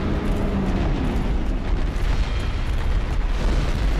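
In the Dark Souls game, a fire orb spell explodes with a loud, sustained fiery roar and crackling bursts that fill the whole stretch without talk.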